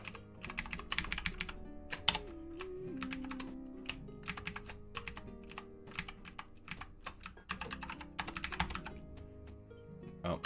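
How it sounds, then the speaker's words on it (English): Keys clatter on a computer keyboard in bursts of rapid, close typing with short pauses between runs, fairly quiet overall and with no talking. "I'm hitting keys, but I must be hitting the wrong keys"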